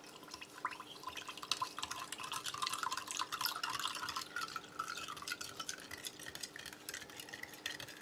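Cold water poured into a glass onto light, loose peach drink powder, a steady faint trickling and splashing that runs continuously for several seconds with no talking.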